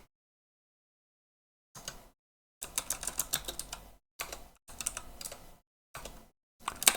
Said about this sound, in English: not typing well today